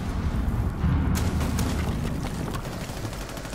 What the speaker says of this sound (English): I might just chuck a nade over there.